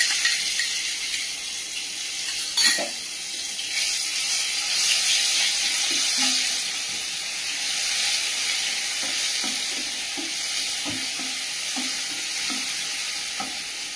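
Ginger-chili paste goes into a hot pan with dried red chili and sizzles with a loud, continuous hiss, while soft scraping stirs recur steadily throughout.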